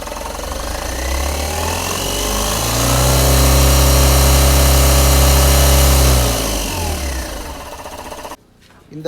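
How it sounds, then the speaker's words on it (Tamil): A Tata Mega diesel truck engine with about 107,637 km on it cranks and catches, then settles into a loud, steady rumbling idle close by. It tapers off after about eight seconds and cuts to near silence at the end. "இப்போ வாங்க இன்ஜினை ஸ்டார்ட் பண்ணி எப்படி இருக்குன்னு பார்த்துடலாம்"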